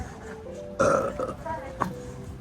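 A person lets out a loud, drawn-out burp close to the mic, followed by a quieter voiced sound, against light background noise.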